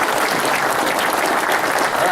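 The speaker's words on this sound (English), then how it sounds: "now we'll take the applause now" A seminar audience on fire escapes applauds steadily, a dense, even wash of clapping from the crowd held at constant loudness throughout.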